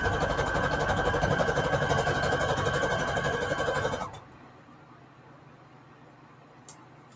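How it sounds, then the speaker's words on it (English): A sewing machine whirs in a fast, steady mechanical rattle for about four seconds, then stops, leaving near silence with one small click. "I can have fun with my sewing machine"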